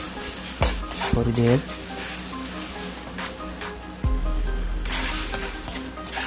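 Dry spices sizzle and fry in hot oil for karela dal, with stirring scrapes and clanks from a spoon against the pan, loud and close, while a person briefly speaks.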